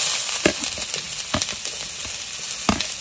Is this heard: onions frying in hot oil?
yes